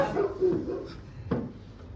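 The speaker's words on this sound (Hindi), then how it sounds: "कुत्ता भौंका" Single dog bark in a stage play, a short sharp burst near the end over room noise, with faint murmuring earlier.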